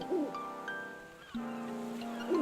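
An owl in Zelda: Link's Awakening gives short, bright, wavering hoots at the start and end, with steady chiptune tones holding between them.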